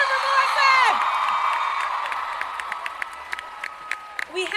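Comic Con panel audience keeps up applause with cheers and whoops, loud at first and tapering to scattered claps, while a host's amplified voice carries over the crowd.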